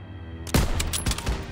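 Sudden rattling gunfire from a World War II shooter game, Call of Duty WWII, bursting in after a quiet rumbling lead-in, with several sharp rapid shots in quick succession.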